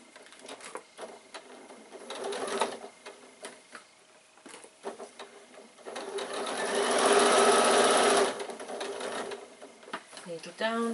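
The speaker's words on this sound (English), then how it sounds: "Needle down, lift your presser foot, pull the fabric around and sew across the bottom seam." A sewing machine stitches across the bottom seam of a fabric bag, its motor whirring in short bursts and then a long steady run, with a voice talking between and over the stitching.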